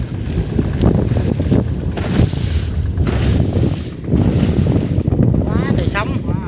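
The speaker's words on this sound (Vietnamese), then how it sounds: "Quá trời sóng." Heavy waves and strong wind around a small boat at sea off Phu Quoc, a loud continuous rush of water and wind noise with surging swells, plus a brief high whistle near the end.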